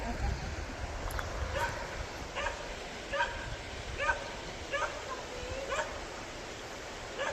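A barking dog yaps and yips beside a covered bridge over a trout stream in Loganton, Pennsylvania, giving a string of sharp, evenly spaced barks at moderate distance over a steady rush of flowing water.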